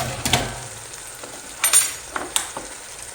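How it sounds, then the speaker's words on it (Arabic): A spiced filling mixture for savory crêpes frying in a pan, a soft steady sizzle broken by several sharp scrapes and taps of a stirring utensil. "غنضيف شويه البزار وغادي يعني نحرك الخليط ديالي حتى يتشحر ليا مزيان مزيان"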